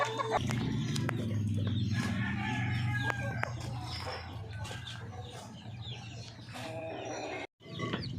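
Chicks and native chickens in a coop cluck and peep continuously, with a rooster crowing in the background amid some rustling and faint talk, moderately quiet overall.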